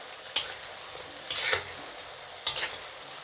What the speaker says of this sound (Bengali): এখন এটা আমরা হালকা ভেজে নেব।